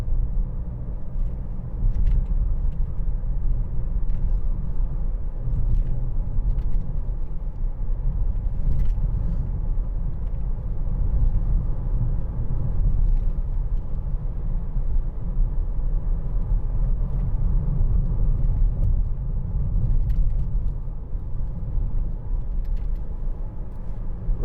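Cabin of a 2013 Mercedes-Benz C200 driving over a bumpy road: a continuous low road rumble with faint knocks and rattles from the uneven surface, steady and unbroken with no talking.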